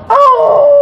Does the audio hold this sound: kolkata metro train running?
no